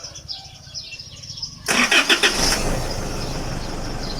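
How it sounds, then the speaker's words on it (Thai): After quiet background chirping, a Mitsubishi pickup engine cranks with a few rapid churns when the key is turned and fires up, then settles into a rough, steady idle. "เสียบกุญแจเข้าไป ครับ หมุนสตาร์ท"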